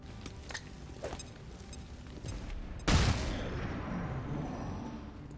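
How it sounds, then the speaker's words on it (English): A flashbang grenade bursts with a sudden loud blast in the XCOM 2 video game, following scattered faint gunfire and shuffling, then a lingering rumble and ringing tone fade out after the explosion. "maybe we can flashbang the commando"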